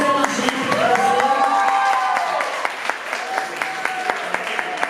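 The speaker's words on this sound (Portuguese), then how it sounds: "Vamos aplaudir as professoras que trouxeram a gente para você." An audience at a school culture project event claps for the teachers, a burst of many hands that starts strong and fades into scattered sharp claps, with a voice talking over the opening.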